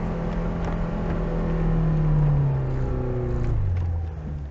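A Lada Niva 4x4 on mud tyres with self-locking differentials, engine revving hard in low-range second gear as its wheels spin in mud; a steady loud drone that rises, holds, then falls away, no talking.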